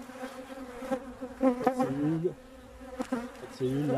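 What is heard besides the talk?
honeybees on a hive frame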